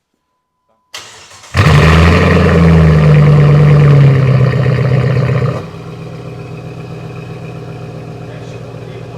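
A Jeep Grand Cherokee WJ 4.7 V8 with a fully welded exhaust cranks over and starts, roaring loudly with deep exhaust rumble for a few seconds before dropping to a steady, quieter idle; a brief word is spoken.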